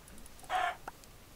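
A single clipped cluck from a Minecraft chicken, bright and close, followed by a tiny softer chirp, set against low game background noise with no one speaking.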